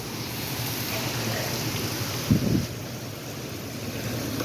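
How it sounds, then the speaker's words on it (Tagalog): Steady, dense hiss of heavy rain pouring down throughout, with a brief low thump near the middle and no speech. "Oh, grabe yung ulan, guys."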